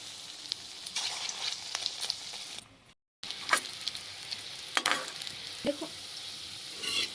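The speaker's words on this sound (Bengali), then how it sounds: "গোল গোল করে রাখা এগুলো ডিমের মধ্যে চুবিয়ে গরম তেলের মধ্যে এইভাবে দিয়ে দেবেন।" Egg-dipped dal dumplings crackle and sizzle in hot oil in a wok, a dense continuous frying hiss broken by a short silent gap, with sharper pops and spatters afterward.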